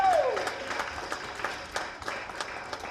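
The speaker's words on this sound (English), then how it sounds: "Let's give him a hand of applause." An audience claps at an adolescents conference in Ghana, steady applause from a crowd with voices mixed in, moderately loud throughout.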